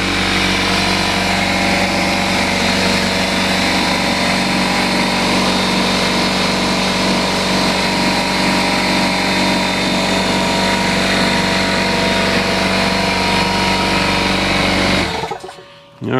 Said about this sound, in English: Now we're going to fire up the compressor.